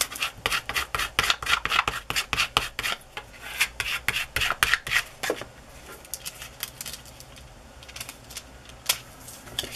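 An old gift card rasps back and forth over craft foil laid on glue, a fast rhythmic scraping that runs loud and close for several seconds and then thins to scattered strokes.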